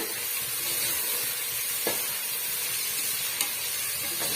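Chicken biryani masala with fresh mint and coriander leaves sizzling as it is stirred in a cooker, a continuous hiss with a couple of faint utensil taps.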